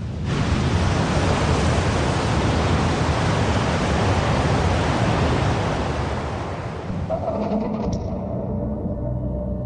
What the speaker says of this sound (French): L'énorme masse de l'océan repoussée par le choc réinvestit ce cratère béant